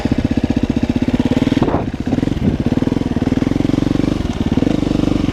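Close and loud, a motorcycle fitted with a new seat and new tyre chugs with a steady, rapid pulsing beat as it sets off toward a meadow, the engine note shifting briefly midway.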